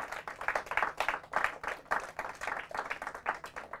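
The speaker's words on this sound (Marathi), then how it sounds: "जोरदार टाळ्या कुसुम माग्रजसाठी." Loud applause for Team Kusumagraj at a televised school quiz competition, dense clapping that swells and ebbs in rhythmic bursts throughout, with no talk over it.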